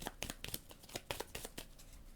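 Playing cards for the Leviathan Wilds board game are shuffled in a quick burst of soft crisp riffling flicks, close and quiet, lasting about two seconds.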